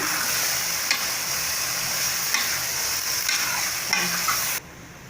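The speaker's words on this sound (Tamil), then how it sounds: "இப்போ நல்லா கலந்து விட்டுக்கோங்க." Kudal curry of goat intestine with rock salt is stirred in a hot pan, giving a steady close sizzle with a few scraping clicks before cutting off abruptly near the end.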